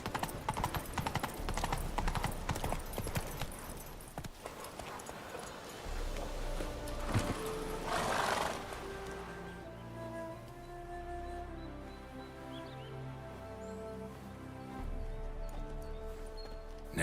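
Roach, a horse in the video game The Witcher 3, clip-clopping in a steady walking rhythm of hoof strikes, with a brief burst of other noise partway through and no clear talk.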